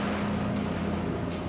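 A Salpa Soleil 52 maxi RIB with 1800 hp engines planes at 12 knots, engines at 2,700 RPM, over short wind-driven waves about 50 cm high. A loud, steady engine drone runs over rushing water and wind, with no talking.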